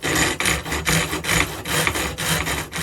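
Hand saw cutting small wood pieces for a woodworker's mallet, with rapid, regular back-and-forth rasping strokes, close and loud, no talk.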